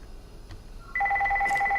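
A telephone in the Amnesia: A Machine for Pigs video game starts ringing partway through, with a steady, loud, trilling ring over a low ambient hum.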